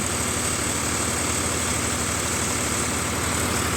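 A Param Tokri model thresher runs late at night threshing mustard in Visnagar, giving a dense, continuous engine drone and mechanical roar, steady and loud with no pauses.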